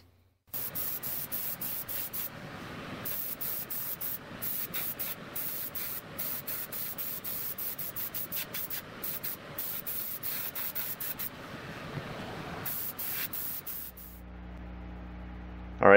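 Spray paint hisses onto a plastic model of a 1969 Plymouth Barracuda in long continuous bursts broken by brief pauses, close and even, ending with a quieter hum.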